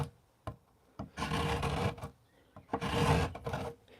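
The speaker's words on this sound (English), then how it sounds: "Just a little scraping again because it's long and flat." A wooden guitar fingerboard blank, long and flat, is scraped with a hand tool in two long rasping strokes, each about a second, with small taps in between. Close and clear, no talking.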